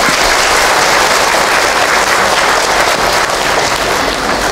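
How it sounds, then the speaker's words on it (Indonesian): Loud, sustained applause from an audience at an Islamic sermon gathering, welcoming the preacher Hilman to the stage, a thick continuous roar of clapping with no pauses. "Tepuk tangan buat Ahilman"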